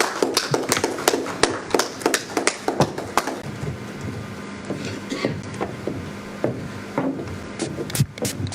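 Audience applause at a Ugandan tourism event, a loose run of individual claps ringing out distinctly, some sharp and close, continuing unevenly throughout at moderate level.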